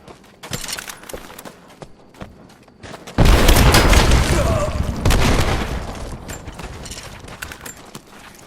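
Gunfire and a heavy boom from Rise of the Tomb Raider: scattered sharp shots, then a loud explosive burst that rumbles and decays over several seconds amid continuing pops of combat noise.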